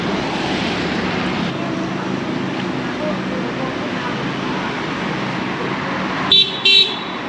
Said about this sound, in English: That car is honking.